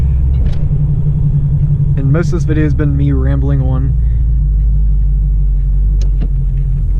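A 1985 Chevrolet Monte Carlo's engine rumbles steadily from inside the car while driving, a loud, constant low drone with someone talking briefly over it.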